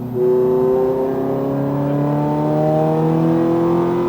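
A Ferrari F430 F1 track car's engine accelerating on a track, a loud, close, rising engine note that climbs steadily through the whole stretch.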